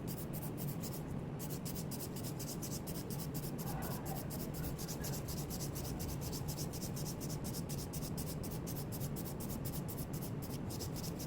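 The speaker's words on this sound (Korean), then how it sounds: "고정하고 위아래로 밀어서 파일링." A nail file pushed up and down across the free edge of a silk nail extension with light pressure, giving a steady, close, rapid rasping scrape that continues without pause.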